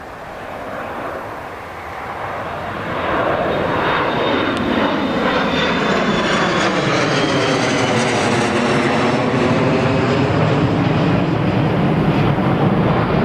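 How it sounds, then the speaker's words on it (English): A Ryanair airliner passes at Newcastle International Airport, its engine roar swelling loud and close with a sweeping, shifting tone that holds strong for over ten seconds. "Right, here comes the Ryanair."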